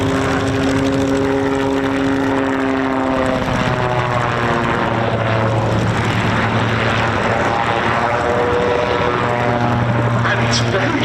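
Propeller aircraft engine at the East Kirkby airshow, a steady droning hum whose pitch slowly shifts as it runs, heard at moderate distance with a commentator talking over it.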